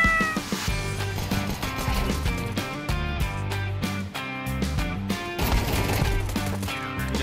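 A cat in a video game meowing loudly and repeatedly over dense game music and sound effects, the meows rising and falling in drawn-out cries with no talking.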